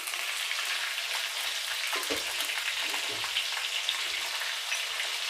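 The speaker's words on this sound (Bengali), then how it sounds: "আমরা আলুটা তাহলে ভেজে নিই" Potatoes frying in a pan with half a spoon of salt and turmeric for a chicken curry, a steady close hiss of oil with soft scraping and stirring knocks around the two-to-three second mark.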